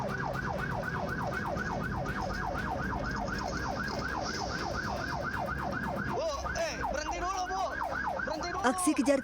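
An ambulance siren wails in a fast, steady repeating cycle during a chase with a minibus through a Harvest City housing estate, loud and close, then turns choppier and uneven near the end amid traffic noise.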